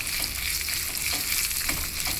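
Small shallots, finely chopped, sizzling in hot oil as tempering for gongura chutney, a steady close crackle and hiss with faint stirring.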